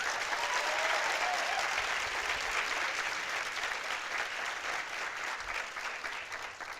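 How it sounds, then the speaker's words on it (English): An audience of teens at a town hall event applauds in a steady, dense wash of clapping that stays soft and fairly distant and tapers only slightly over about seven seconds. "So give yourselves a round of applause"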